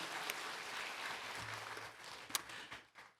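A church congregation at a Friday missionary service applauds in praise of God, soft, distant-sounding clapping that holds steady, peaks with a sharp clap or two, then tapers off toward the end.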